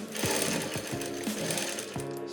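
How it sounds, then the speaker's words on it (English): A sewing machine runs a back stitch, its needle hammering out rapid rhythmic thumps close up in several short runs, with no talking. "you might lock this place with a back stitch."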